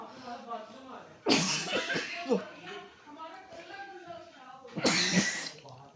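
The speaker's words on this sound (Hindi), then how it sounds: "अब खांसी आपको झेलनी पड़ेगी।" Two loud, harsh coughs burst out close by, separated by a few seconds, with a voice talking in between.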